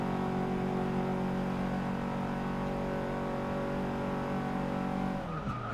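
A hatchback race car in Forza Motorsport 6 screams at high speed around a banked corner at Daytona, a loud sustained engine whine with tire squeal, the pitch dropping sharply near the end.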